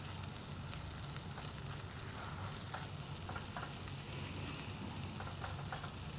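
Garlic frying in a pan for vada pav, a constant dense sizzle and crackle of hot oil, close and steady, with faint stirring taps.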